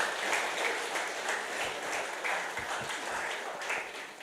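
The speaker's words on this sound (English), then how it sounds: "Ladies and gents, she deserves a bigger round of applause than that." Audience applauding at a farmers' appreciation and awards ceremony, a steady wash of many hands clapping in a hall, fairly close and sustained throughout without speech.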